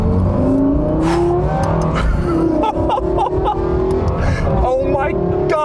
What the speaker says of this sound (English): Oh my God, that sound! It's like a Formula One car!